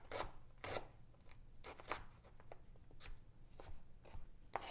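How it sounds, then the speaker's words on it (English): A knife chops fresh ginger into small chunks on a board, quiet irregular taps and thuds coming in quick clusters, close but faint, with no talking. "Then I'm going to chop this up into little bits"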